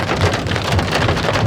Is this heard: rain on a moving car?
yes